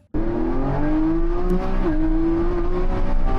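A tiny car with a very tall driver accelerates hard through a school zone, engine note climbing loud and close in one continuous sustained rev with a brief shift dip midway.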